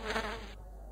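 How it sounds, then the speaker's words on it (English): A fly buzzes with a close, droning, slightly fluctuating hum that swells briefly near the start and then settles into a softer steady tone. "Fly."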